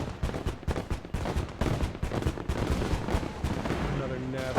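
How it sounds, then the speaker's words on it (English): An artillery barrage in a World War I strategy video game pounds out dense, loud, overlapping booms and blasts in rapid succession, filling the whole stretch with continuous gunfire-like explosions and no pauses. "Nice barrage there."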